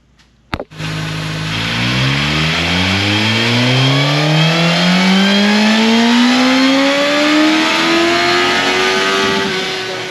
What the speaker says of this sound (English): we're fixing to jump on the dyno, see how much power this thing ever makes with the base pull